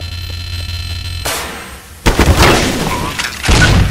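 Gunfire in Counter-Strike: Source, a sudden loud shot bursting in after a quiet stretch of low game hum, followed by a second heavy blast with rumbling decay near the end.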